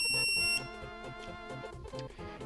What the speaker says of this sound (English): So this is a Lipo alarm